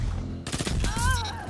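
Energy-weapon fire from the Graviton Lance in Destiny 2 multiplayer, a loud close burst of rapid shots with a rising whine, following a brief quiet lead-in.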